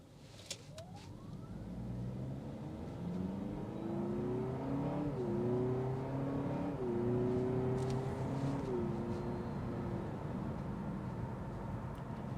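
A steady 2025 Honda Civic Hatchback Hybrid Sport engine hum drones while driving, its pitch rising and stepping through gear shifts, smooth and moderately loud with road noise underneath.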